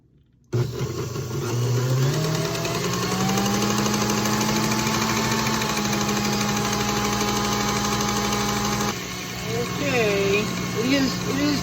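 Stand mixer churning cream into butter, with a steady loud motor drone and a laboring whine that starts abruptly and runs throughout, while a person talks over it.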